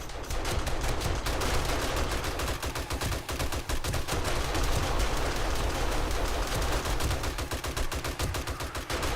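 Rapid sustained automatic gunfire in the survival game 7 Days to Die, dense loud bursts of shots firing continuously with brief gaps, alone without speech.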